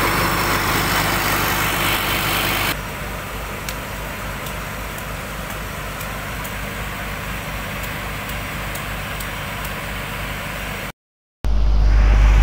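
A Caterpillar excavator engine with a faulty cooling system runs loud and steady, a deep idling rumble with faint regular ticks, briefly cutting out before it roars back at the end.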